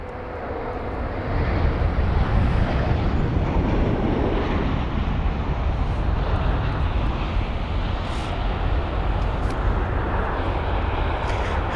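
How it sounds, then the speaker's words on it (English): A loud, sustained jet engine roar with steady broadband rumble from an airliner landing and applying reverse thrust at London Heathrow, close by and without talk. "the loud engine reverse thrusters"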